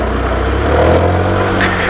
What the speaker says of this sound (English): we're away on this little Yamaha Vino